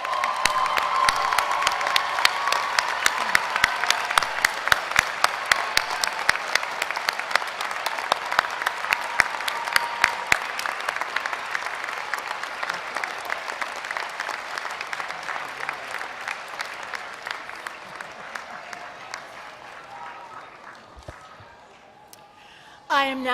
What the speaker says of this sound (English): They deserve a round of applause too.